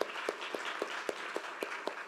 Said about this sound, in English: A warm round of applause for all of our panelists and for Fernando